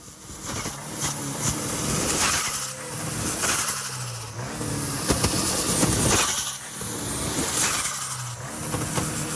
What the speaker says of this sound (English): And of course, I had to rev it.